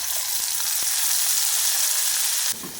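A loud, steady sizzle of ground spice paste frying in a hot pan for mint biryani, close by, cutting off sharply near the end.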